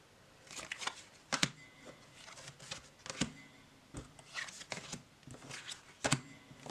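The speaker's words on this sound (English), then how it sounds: "I think I can ruffle shuffle this." A deck of playing cards from an ocean-themed collection ruffle shuffled by hand, with several crisp riffling bursts and soft card handling in between, close and fairly quiet with no talking.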